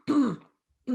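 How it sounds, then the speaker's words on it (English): A single short, gruff throat clearing, close and fairly quiet, followed by silence and the start of another rough throat sound. "So you might have to hear me cough."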